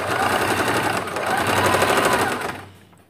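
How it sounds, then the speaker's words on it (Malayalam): A sewing machine stitches the slit of a churidar lining with a rapid, even run of needle clatter. The sound is close and loud, then stops abruptly, leaving near silence. "ഇനി നമുക്ക് സ്ലിറ്റ് തയ്ക്കാം."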